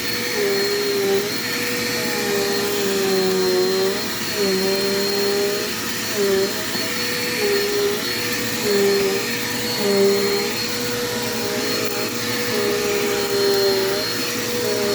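A Dirt Devil Quick Power vacuum cleaner running for fifteen seconds, a loud close steady whine whose pitch dips and recovers repeatedly as it is pushed across the floor.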